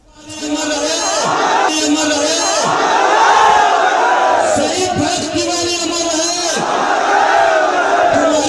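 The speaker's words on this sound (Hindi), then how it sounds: "हजारों लोगों की भीड़ इस महापंचायत में थी" A packed crowd of thousands at a mahapanchayat rally roars and chants slogans in loud, surging waves of massed voices, with individual shouts rising over the din throughout.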